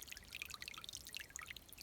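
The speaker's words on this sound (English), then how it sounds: "We have running water." A small, faint trickle of running water flows steadily through an E-Z Sluice set on bedrock for gold prospecting after recent rain, a soft continuous splashing with no voices.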